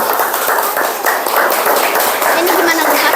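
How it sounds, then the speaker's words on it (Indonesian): Audience applause in a classroom or school session, a dense burst of clapping from many people that keeps going steadily through the clip. "Beri tepuk tangan."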